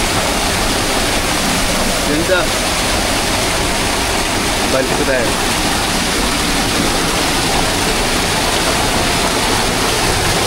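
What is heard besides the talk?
waterfall, flowing and falling water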